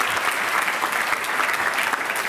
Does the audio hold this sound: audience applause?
yes